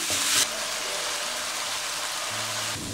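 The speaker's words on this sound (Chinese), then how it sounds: "再倒入切好的配菜，来点生抽、食用盐，翻炒至蔬菜断生" Chopped vegetables stir-fry with soy sauce and salt in a hot pan, a continuous loud sizzle with a louder hiss at the start and faint scraping of stirring.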